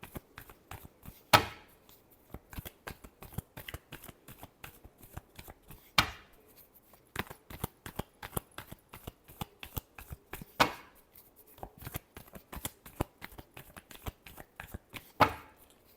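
Tarot cards shuffled by hand over a long stretch, a fast, steady patter of soft card slaps with a few louder snaps at intervals, quiet and close with no voices.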